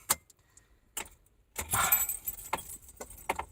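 Car keys jangling with sharp metallic clinks while a car is started, followed by a brief burst of engine noise as it turns over, then more scattered jingling.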